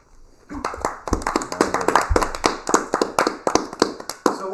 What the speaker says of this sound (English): So while we were clapping